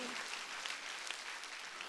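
A church congregation at a Sunday worship service claps their hands steadily, a faint, continuous patter of many hands heard at a distance.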